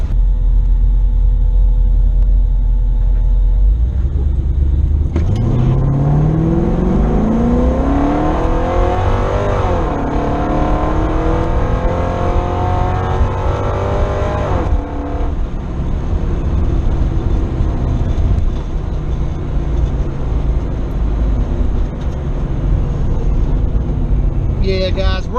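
The Dr Nova drag car idles with a deep rumble, then revs hard and accelerates down the drag strip with a rising engine roar. The car is loud and close throughout, with a whine alongside the engine.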